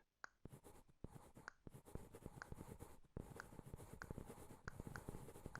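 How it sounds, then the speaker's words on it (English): Scratchy pen scribbling in the VR game Anyland, a close run of quick rasping strokes broken by brief pauses, with small chime-like blips popping in here and there. "There's a little sound of like scribbling noises on this one"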